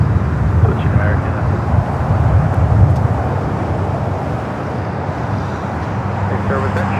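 A Boeing 747 rolls for takeoff on runway 24 left at Los Angeles International Airport. Its engines give a continuous, heavy, distant-sounding roar that swells slightly and then eases.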